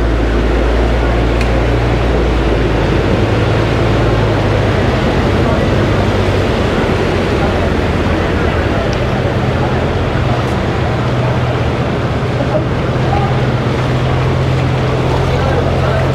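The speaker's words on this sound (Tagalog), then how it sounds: "testingin naman natin para ma-experience natin kung ano yung pakiramdam kapag ka umaandar na to sa tubig" An e-bike running through water gives a steady, loud motorized whir over constant splashing and wash, continuous and close throughout with no clear voice.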